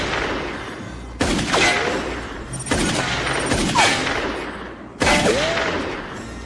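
A sheriff's gunshots ring out in three sharp, loud reports spaced a couple of seconds apart, each followed by a long ringing decay, with no talking.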